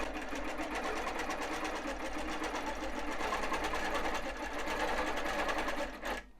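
A long arm sewing machine runs steadily, stitching down the side of a pleated fabric pillow with a continuous close whir that cuts off near the end.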